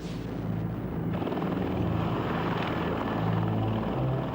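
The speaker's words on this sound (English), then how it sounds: "the Mi-24 Hind has been the ultimate battlefield helicopter" A Mi-24 Hind attack helicopter roars loudly and continuously, its rotor beating in a low, throbbing rhythm with a strong engine whine layered over it, sustained and close with no speech.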